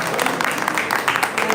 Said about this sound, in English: I think they do deserve a round of applause.